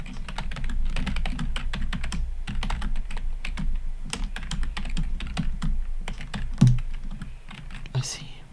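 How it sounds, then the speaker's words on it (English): Steady, close clicking of computer keyboard keys in a fast, continuous typing rhythm, with a few louder clacks near the end. "Do you like the sounds of my keyboard?"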